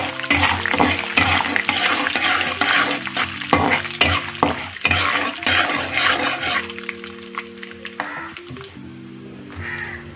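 Mustard seeds and black gram frying in hot oil for lemon rice, a loud close crackling sizzle with stirring scrapes that eases toward the end, no talking.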